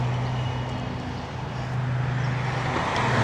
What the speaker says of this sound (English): We'll let these cars go.